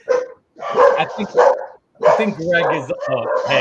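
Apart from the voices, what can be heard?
dog barking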